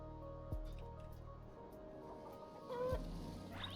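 A chicken clucks in the farm-building game Endzone. Two brief, soft clucks stand out at the start and near the end over quiet game ambience.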